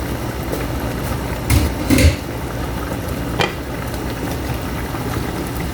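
A pot of chicken adobo bubbling at a steady boil, a soft continuous hiss with a few brief clinks and stirring knocks, with no one speaking.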